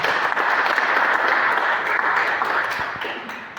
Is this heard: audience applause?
yes